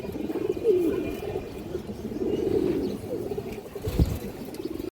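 Indian high-flyer pigeons coo in soft, low rolling phrases, close by and intermittent, over a steady outdoor background with a brief thump near the end.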